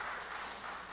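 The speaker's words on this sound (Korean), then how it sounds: "박수 한번 해주세요" A church congregation applauds at a Sunday worship service in Korea, clapping in congratulation of a daughter's wedding. It is a brief, steady burst of many hands clapping that fills the room.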